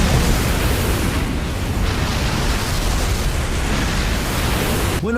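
A sustained, dense roar of explosive noise fills the whole stretch, loud and broadband with no clear breaks, depicting the Poor Man's Rose blast from Hunter x Hunter.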